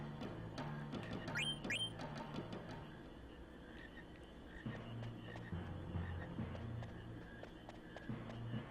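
Frogs croak in Final Fantasy 9, giving repeated low, throaty calls over a soft ambient game background, with faint footstep-like taps and no talking.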